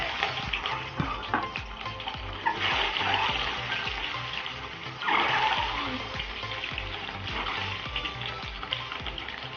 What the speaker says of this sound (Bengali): কড়াইটা গরম হয়েছে, এবার আমি ডিমগুলো ছেড়ে দেব।